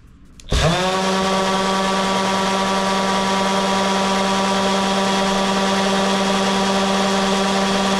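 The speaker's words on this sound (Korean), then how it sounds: "두 번째 충전 그라인더 실험에서는 와 이게 아예 다르더라고요" A DeWalt cordless grinder on a Powerstack battery spins up abruptly and holds a loud, steady high-pitched whine with a strong tonal hum, running alone without pause.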